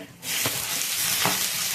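Cumin seeds, cut green chili, curry leaves, bottle gourd and carrot hit hot oil for a fasting millet khichdi, bursting into a loud, steady sizzle after a brief quiet start, with faint spoon scrapes at intervals.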